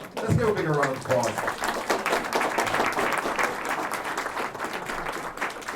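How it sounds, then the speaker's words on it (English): Audience applause at a live heritage awards ceremony hosted by a consul general, a dense, steady wash of clapping that carries through the whole stretch, with speech-like voices mixed in near the start. "Let's give a bigger round of applause."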